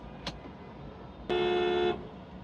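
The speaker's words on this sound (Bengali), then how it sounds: "হর্ন দিতে ভালো লাগে না বাট শব্দ দূষণ" A car horn sounds on a busy city road in Mohakhali, Dhaka: a brief faint toot, then a louder sustained honk lasting about half a second.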